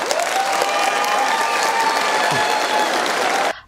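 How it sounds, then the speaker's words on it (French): Sustained audience applause at a state visit event at the Élysée in France, a dense, steady roar of many hands clapping that carries on evenly and then cuts off abruptly near the end. "Ça s'applaudit."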